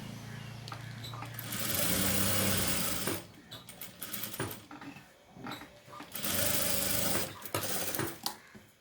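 Sewing machine running in a tailoring class, with bursts of stitching separated by short pauses and some handling clatter, fairly close and loud.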